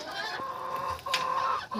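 A hen in a poultry yard gives a few short, close clucks in quick succession, with a brief sharper call near the end.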